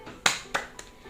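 A teacher claps out a quick rhythm: three sharp, close hand claps in fast succession, the last one softer, with no voices over them.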